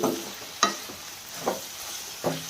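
Tamarind pulp goes into a simmering dry fish curry in a pan: a steady sizzle with three sharp spoon scrapes spaced evenly through it.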